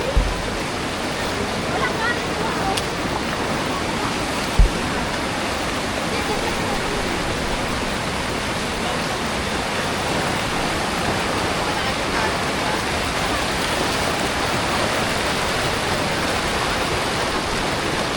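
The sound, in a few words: strong river current, Bagsit River, Zambales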